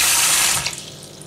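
Tap water runs loudly into a small tub being filled to clean mussels, a steady broadband gush that softens and thins toward the end as the flow eases.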